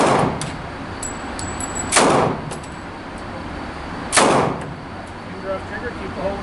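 Two sharp, loud firearm shots fired on semi-automatic at an outdoor shooting range, spaced about two seconds apart, each with a brief trailing echo over a low background hum.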